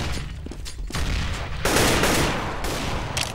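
Gunfire in the competitive shooter CS:GO: a rapid burst of close, loud shots followed by further volleys, with sharp cracks punctuating a dense stretch of firing.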